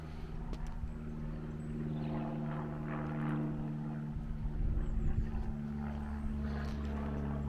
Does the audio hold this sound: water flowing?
no